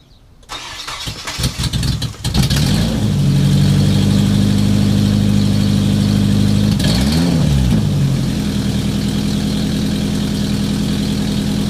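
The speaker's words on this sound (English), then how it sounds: "All I'm gonna do is just start her up." A Nissan 240SX engine cranks briefly, catches with a loud roar and revs up, then a second rev rises and falls before it settles into a steady, strong idle, close by with no voices.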